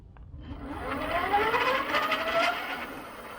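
Lectric XP e-bike hub motor fitted with a 1500W controller, spinning up under throttle with a faint rising electric whine that swells and then eases, heard close and quiet without talk.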